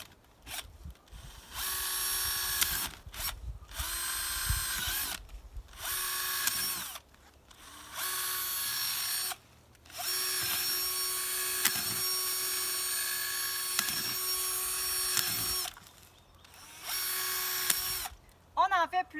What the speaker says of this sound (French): je vais prendre ma drill et je vais percer mes trous directement dedans